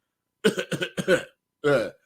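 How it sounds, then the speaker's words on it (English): A person recovering from a mild illness coughs close to the microphone, three quick hacking bursts followed after a short pause by one longer cough, with silence around them. "Why is it when I'm talking, that's when I want to be coughing?"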